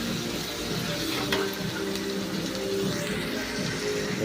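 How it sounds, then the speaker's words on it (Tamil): Tomatoes and onions sautéing in a pan for a drumstick dish, a soft continuous sizzle and bubbling, fairly faint, with light stirring clinks and no talking. "தக்காளி பழமும் வெங்காயமும் நல்லா வதங்கணும்"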